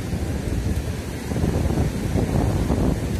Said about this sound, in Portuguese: As ondas realmente estão muito grandes naquela ponta ali, pessoal. Batendo nas pedras.